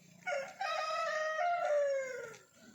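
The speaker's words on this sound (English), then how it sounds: "We've got feed and water to these chickens" A farm chicken crows once nearby, a clear drawn-out cock-a-doodle-doo lasting about two seconds over faint background clucking.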